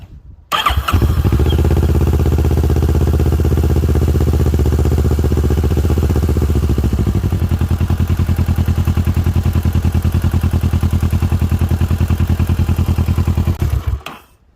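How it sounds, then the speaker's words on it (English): A Kawasaki Versys 650 motorcycle fresh from an oil and filter change starts up with a clattering crank, then settles into a steady, close, even idle that runs until it cuts off near the end. "start the bike up and let it run for a couple of minutes"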